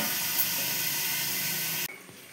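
Marinated food sautéing in a covered pan gives a close, steady hissing sizzle that cuts off abruptly near the end, leaving only a faint low sputter.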